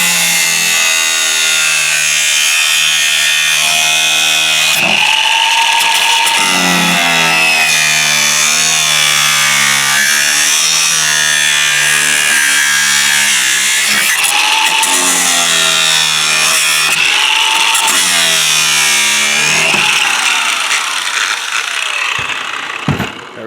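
A power tool cuts and trims plastic parts of a front-end nose conversion kit for a Ford Super Duty truck, a loud continuous whining drone that wavers in pitch as the blade bites and eases, running nearly nonstop.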